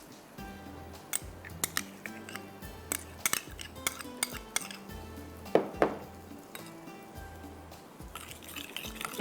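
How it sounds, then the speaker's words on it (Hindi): A spoon mixing green chutney and mayonnaise in a bowl, with repeated clinks and taps against the dish and soft wet stirring in an irregular rhythm. "इस तरह से आपने इसको मिक्स कर लेना।"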